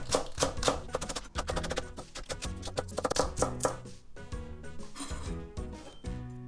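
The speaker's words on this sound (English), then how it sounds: "Then the scallion I'm gonna cut up in pieces. I think it's kind of neat, so I'm gonna cut into diagonal" A knife chops scallion into diagonal pieces on a cutting board, a fast, steady run of crisp close taps that slows near the end, with faint background tones underneath.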